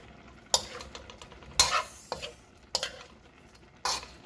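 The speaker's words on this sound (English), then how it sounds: "Give it a nice stir." Vegetable stir-fry stirred in a pan: four or five distinct scraping strokes of a utensil against the metal, each one short and close, over a faint background sizzle.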